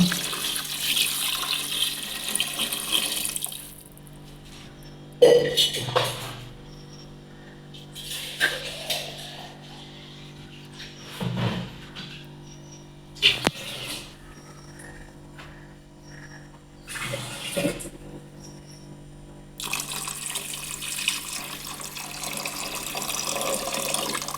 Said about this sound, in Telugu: తగినంత వాటర్ అయితే వేసుకుందాం